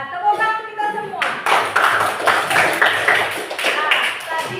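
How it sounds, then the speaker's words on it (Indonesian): Clapping from a classroom group of children breaks out after a short spoken phrase, a dense burst of many hands that holds steady and fairly loud to the end, with voices mixed in. "Luar biasa, tepuk tangan kita semua."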